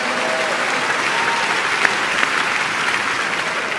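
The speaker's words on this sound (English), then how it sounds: "Are you clapping for Jesus?" A church congregation at a Faith Tabernacle family day praise service claps for Jesus in a steady, dense, continuous wash of applause, with a few sharper claps popping out.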